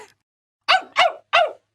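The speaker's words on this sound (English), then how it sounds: "Gelert looked at his master and barked happily." A dog gives a single short bark, then after a brief pause three more in quick succession, close and clear against silence.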